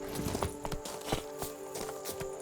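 Horse hooves clip-clop at a steady walking rhythm in The Witcher 3: Wild Hunt, each strike crisp and moderately close, set against soft ambient game background with no talking.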